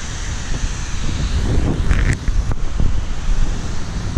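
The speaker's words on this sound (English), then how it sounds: "Just gotta love the sound of the water" Water flowing and cascading down at Buffalo Bayou Park, a loud steady rushing roar mixed with gusty wind noise on the microphone, with no voices.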